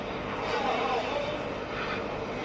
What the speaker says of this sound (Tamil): ஹெலிகாப்டர்லாம் வந்து போறாடி.